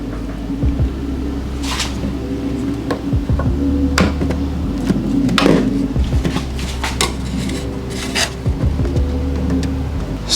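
A hose clamp and conical filter being fitted onto the metal ring transition of a 034 Motorsport S34 intake on an Audi B8/8.5 A4, with scattered metallic clinks and rubbing over a steady low hum.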